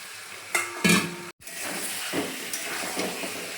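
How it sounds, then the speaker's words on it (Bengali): Potatoes and pointed gourd stir-fried in spice paste in a pan, a steady close sizzle with a brief sharp clatter and scrape of stirring near the start, then a short gap before the frying hiss carries on evenly. "এবার আলু পটলটা ছেড়ে দেব। ছেড়ে দিয়ে আবার একটু জল দিয়ে কষিয়ে নেব।"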